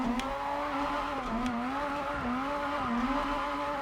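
A car engine in the video game Japanese Drift Master roars steadily at highway speed, its pitch dipping and rising with gear changes, with a couple of brief sharp transients.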